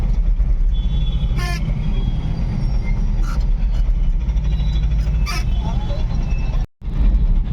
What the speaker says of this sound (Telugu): ఆడ వినాయకుడు పోతుండు కదా, కొంచెం ట్రాఫిక్ మెల్లమెల్లంగా పోతుంది అన్నట్టు